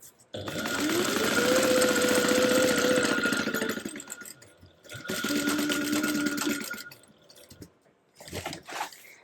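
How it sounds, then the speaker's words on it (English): A domestic sewing machine stitches a pocket panel to a top welt at a quarter-inch seam, two bursts of fast whirring stitches, the first longer, then a few brief mechanical clicks, close and loud with no talking. "you're going to sew that together at 1/4 inch seam allowance"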